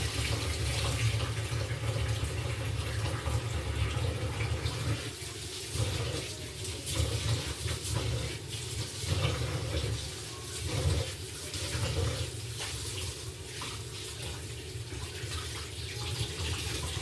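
Water runs steadily from a tap fed by a motor pump, a continuous close splashing flow with a low hum underneath, no talk over it.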